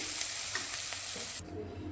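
Steady broadband sizzling of hot oil tempering spices in a wok after frying bitter gourd, continuous and close, with a slight drop in intensity near the end; no voices.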